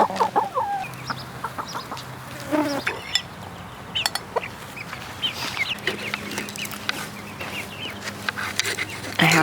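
Chickens cluck and squawk around a backyard coop in repeated bursts at close and middle distance, with insects buzzing and a steady low hum underneath.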